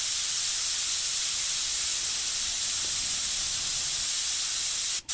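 An airbrush sprays paint wide open to flush its tip, making a steady, loud hiss of air and spray that runs unbroken for several seconds and then cuts off abruptly at the end.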